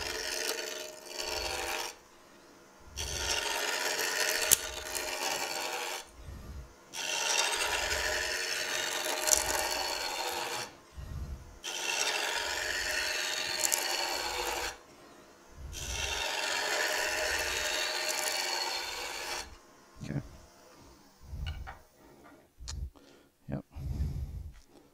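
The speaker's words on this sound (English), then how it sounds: "Using my half inch bowl gouge. Go ahead and take the corners off." A half-inch bowl gouge takes the corners off a square turned mallet blank on a wood lathe, producing loud, rough rasping cuts in long bursts separated by short pauses, with scattered lighter scrapes and taps toward the end.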